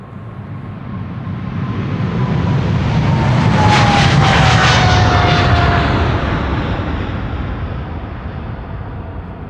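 A Boeing 777 jet airliner passes at Amsterdam Schiphol Airport, its engine roar swelling from a distant rumble to a loud broad whoosh with a descending whine, then slowly fading away.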